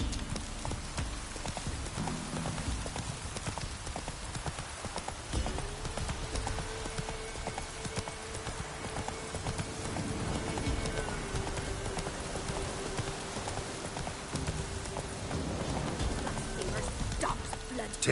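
Hooves of Roach, Geralt's horse in The Witcher 3, clip-clop in a steady walking rhythm throughout, close and clear, with game ambience and a sustained tone underneath.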